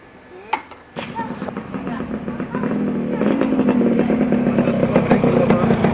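A Yamaha RX-King two-stroke motorcycle engine idling and revving up close, a steady rattling drone that grows louder and rougher, with people talking nearby.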